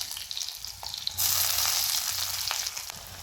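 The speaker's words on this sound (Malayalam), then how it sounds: "ഒരു സവാള തന്നെ കുറച്ച് അരിഞ്ഞ് വെച്ചിട്ടുണ്ട്. അതും കൂടെ അതിലോട്ട് ചേർത്ത് കൊടുക്കുകയാണ്." Chopped onion hits hot oil seasoned with fenugreek and mustard seeds, with a few light clicks giving way to a sudden loud, bright sizzle that holds steady, close up, with no speech.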